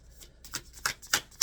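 Tarot cards shuffled by hand in a quick series of crisp riffling bursts that grow louder toward the end, close and alone with no voice over them.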